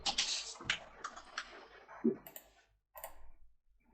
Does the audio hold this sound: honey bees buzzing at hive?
no